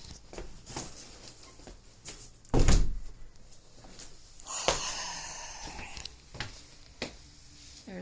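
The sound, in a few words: door closing in a house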